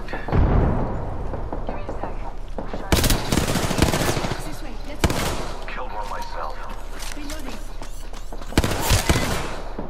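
Apex Legends gunfire crackles in rapid automatic bursts and single shots throughout, loud and close, with voices talking over the fighting.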